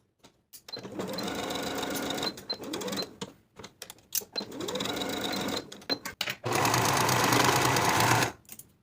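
A sewing machine runs in quick bursts while finishing the raw seam edges of elastic-waist shorts, stitching in three main stretches separated by short pauses and clicks, close and moderately loud.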